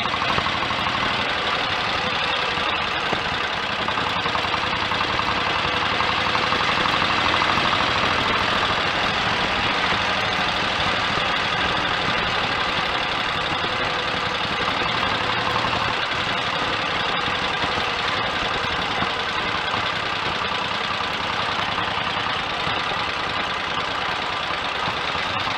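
A Royal Enfield 1000 cc Model K engine idles steadily and loudly nearby, a continuous mechanical rumble with a rapid, even knocking beat and no voices over it.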